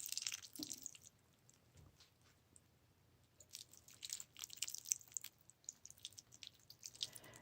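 Water trickles and drips onto a potted cactus and its soil, a faint close patter of irregular drops that thickens into a denser spatter in the second half, with no talking.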